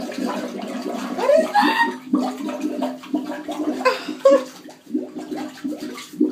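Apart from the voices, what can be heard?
toilet flushing by itself at Mohegan Sun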